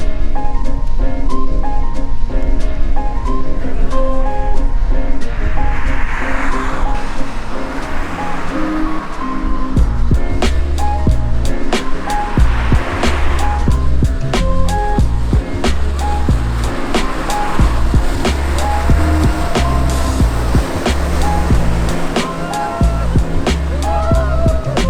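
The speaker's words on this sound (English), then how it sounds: "There's all kinds of cars." Cars rush across a highway bridge on Kouri Island, a loud continuous roar of traffic with tire hum and wind buffeting close to the microphone, no speech heard.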